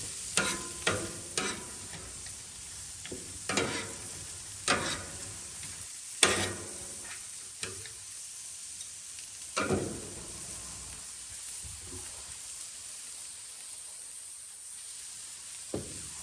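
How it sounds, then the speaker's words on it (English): Eggs scramble with stick butter on a Blackstone griddle while making chicken fried rice, a low quiet sizzle broken by sharp scraping spatula strokes, frequent early on and sparser later. "Then we're going to get them scrambled on the Blackstone here."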